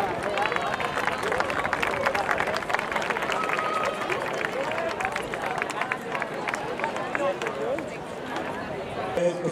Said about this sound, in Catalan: Donem-los un fortíssim aplaudiment als quatre genets.